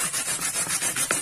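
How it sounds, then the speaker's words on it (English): Cassava is rubbed by hand over a grater for garri, making fast, rhythmic rasping scrapes, about six strokes per second, close and steady. "they grated the Garri using the grater like this"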